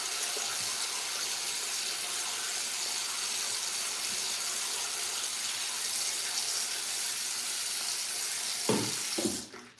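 A tap runs steadily to wet hair during a wash, a constant close rush of water that breaks off into a few splashes just before it stops.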